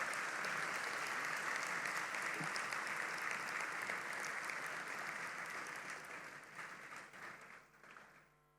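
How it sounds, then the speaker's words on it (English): Graduates at a university graduation ceremony applaud their parents and families, a long, even roar of many clapping hands that gradually thins and tapers off toward the end. "please give them a hearty applause for the support they've given you"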